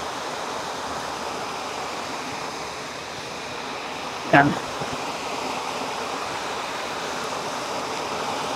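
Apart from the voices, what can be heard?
Talon ng Leon waterfall in Silang, Cavite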